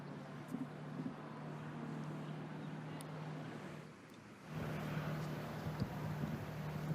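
Hard wind blowing across a golf course during a professional tournament final round, a steady broadband rush buffeting the microphone, growing stronger partway through.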